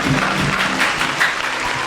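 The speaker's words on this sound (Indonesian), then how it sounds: "Beri tepuk tangan yang paling meriah dong." Audience applause at a school music event as a band is introduced, continuous dense clapping that stays fairly loud and even throughout with no speech.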